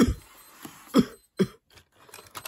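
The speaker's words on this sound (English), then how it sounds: "Must be somebody coughing." A few short, sharp coughs spaced apart, fairly close, with quiet gaps and some faint clicking between them.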